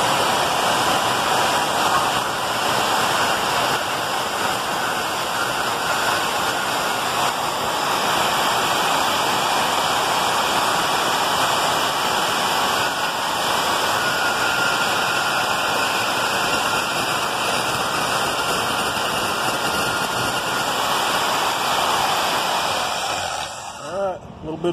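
An angle grinder works on metal for a go-kart frame, a loud, continuous high-pitched whine with steady rushing noise up close that barely changes for over twenty seconds before cutting off at the end.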